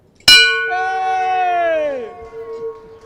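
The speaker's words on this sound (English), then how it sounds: "There is a technique to ringing the bell." A bell at a boat show booth is struck once, giving a sharp metallic clang and a long, ringing tone with clear harmonics that fades over about two seconds, with a faint crowd murmur beneath.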